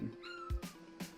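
A pet cat meows with a couple of short tonal calls amid some light handling noise, close by and fairly quiet, with no talking.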